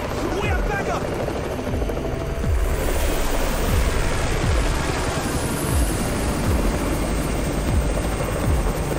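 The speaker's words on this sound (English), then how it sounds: "It's the Raven's chopper! We have backup!" A helicopter arrives in a zombie video game, its rotor thumping loud and steady with rhythmic low beats over a continuous wash of noise.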